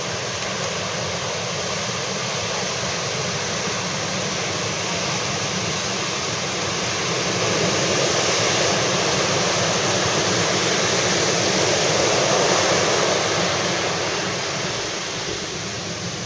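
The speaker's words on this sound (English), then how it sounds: "Look at the surf coming in out there, dude." Big ocean surf breaking offshore, a continuous broad roaring wash that swells louder toward the middle and then eases slightly, with no voices.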